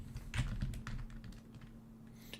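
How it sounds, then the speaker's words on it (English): Quiet, steady typing on a computer keyboard, a quick run of soft key clicks heard close up over a faint electrical hum. "Should I just start typing, doing every single key?"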